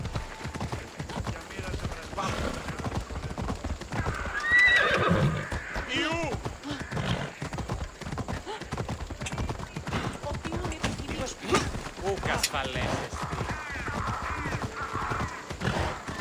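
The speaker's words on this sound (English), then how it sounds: "more to me on the horse galloping through the streets than they do the lion." Rapid hoofbeats of a horse galloping through city streets in Assassin's Creed Odyssey clatter continuously, a whinny rising briefly, with voices and game noise mixed underneath.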